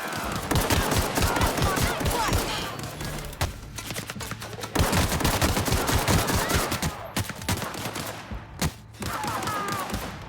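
Dense, rapid gunfire from enemy weapons during a firefight in The Outer Worlds, with near-continuous bursts and volleys, loud and close, breaking off briefly before resuming; a voice can be heard faintly in the mix.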